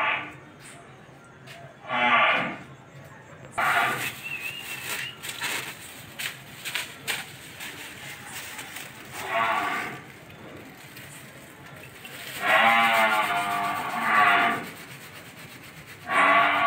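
Cattle on a farm, a cow in heat awaiting artificial insemination, lowing in several separate calls with rustling and scraping between them, fairly close.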